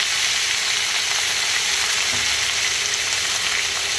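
Beetroot frying in a pan just after chillies were fried, giving a steady, loud, close sizzle with a constant crackle and no talking.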